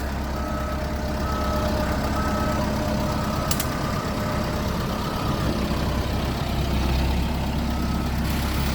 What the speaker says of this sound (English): This is the arrival of the Amarok.